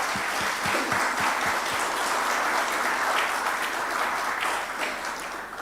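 Sustained applause from an audience at a ministerial meeting, dense clapping that stays steady and fairly loud throughout with no talk over it.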